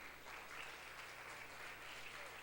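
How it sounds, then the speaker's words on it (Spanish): Steady applause from a church congregation during a Spanish-language worship service, a continuous wash of clapping filling the room at a moderate level throughout. "Le damos un aplauso grande al Señor."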